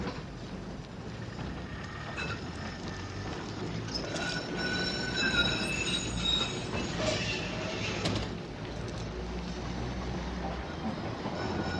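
A tram rolls along rails with a steady low rumble, rattling wheels and faint high squeals and clanks that rise and fall, fairly close and continuous with no talk.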